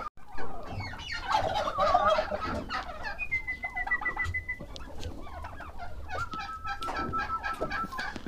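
Home-raised turkeys calling nearby, a burst of loud gobbling and clucking followed by drawn-out, wavering whistle-like calls, with other fowl chattering underneath.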